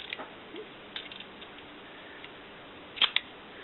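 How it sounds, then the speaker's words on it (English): Inside a Contax II A camera, the shutter gear train runs faintly with soft scattered ticks, ending in a sharper cluster of small mechanical clicks close to the microphone. "you can kind of hear the gears in there wanting to go."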